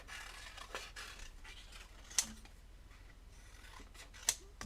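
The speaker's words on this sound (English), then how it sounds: "I'm going to use my big scissors just because they work easier for this." Big scissors cut through paper pieces for a craft project, giving faint, close snips and rustling handling noise, with two sharper, clearer cuts standing out against a quiet room.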